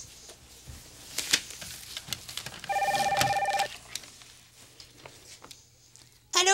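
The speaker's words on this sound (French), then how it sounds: "Ah, puis ça sonne encore. C'est le code de Geneviève, je peux répondre alors." A telephone rings in a quiet room with a short, loud electronic double-tone trill, surrounded by soft tapping and handling noises and a faint voice.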